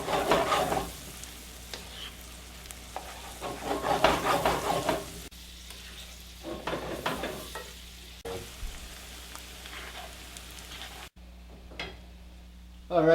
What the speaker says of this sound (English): we're just going to leave those to brown for a couple of minutes here